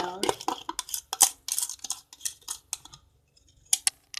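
Homemade glue-free, borax-free slime with salt and sugar stirred in a container: close, irregular sticky clicks and scraping taps in quick bursts, with a brief spoken phrase at the start.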